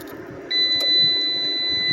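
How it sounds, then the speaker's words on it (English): A mini split heating and cooling unit installed in a van lets out a single sustained electronic beep when it is disconnected. The tone is clear and close, and it holds steady for over a second over faint background noise. "As you can see, it beeped."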